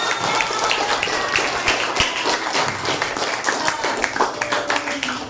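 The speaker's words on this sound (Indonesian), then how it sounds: "Tepuk tangan semuanya" A classroom of students clapping together during a lesson on supply and demand, a dense broadband patter of hand claps lasting throughout, fairly loud and close, with some voices mixed in.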